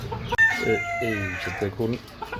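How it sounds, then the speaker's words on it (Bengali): Sultan chickens on a small home farm, clucking and calling in a steady, close chorus while someone speaks over them briefly. "সুলতান মুরগি শুরুতেই আছে এখানে।"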